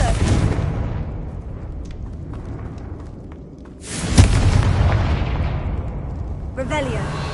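A Confringo fire spell explodes in Hogwarts Legacy as a deep booming blast with a crackling burst, followed by a rumbling tail, over a continuous low game ambience.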